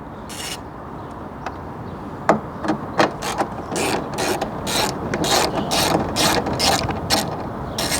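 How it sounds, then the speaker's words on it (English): A ratchet clicks in rapid bursts while loosening 8mm headlight bolts on a BMW E46 facelift coupe, close and crisp, the bursts growing busier and more regular toward the end. "Start off by removing the top screws. So the 8mm bolts, which are right on the top"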